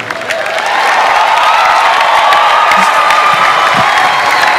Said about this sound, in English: A round of applause for Pastor Matthew Ashimolowo.